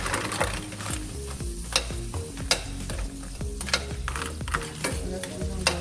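Shrimp and lobster warming in butter in a pan, a steady soft sizzle with repeated stirring scrapes and taps of a utensil at a regular rhythm.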